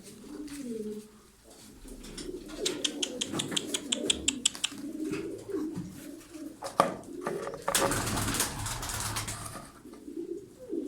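Tumbler pigeons coo softly in a loft near a vinegar-water bath, low throaty calls repeating amid rustling and scattered sharp clicks, with a brief burst of wing flapping; someone talks intermittently in the background.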